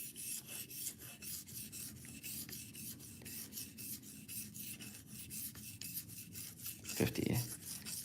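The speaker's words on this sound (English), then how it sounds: "now it's just easy work using these ceramic stones, just going equal passes." A knife blade is drawn in steady, even passes across ceramic sharpening stones, giving a continuous close rasping scrape with regular stroke rhythm, ending in a louder brief scrape near the end.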